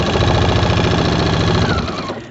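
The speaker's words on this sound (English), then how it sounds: "I'm going to use my walking foot and just start stitching diagonally and following the lines that I drew." A sewing machine fitted with a walking foot runs steadily, stitching diagonal quilting lines across a small quilt, a loud close mechanical whir with a fast even rhythm that slows and stops near the end.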